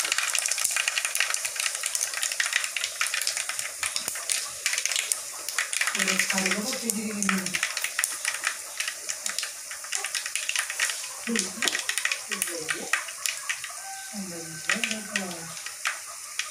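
Mustard seeds crackle and pop in hot coconut oil in a pan, with a continuous busy sizzle and sharp close pops throughout, while a voice speaks in short stretches over the frying.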